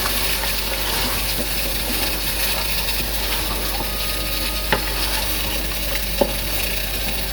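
Tomatoes going into a hot pot of onions, garlic, cinnamon and pilau spices for Ugandan pilau with meat, giving a steady broad sizzle throughout with a couple of brief clicks of utensils, close and alone.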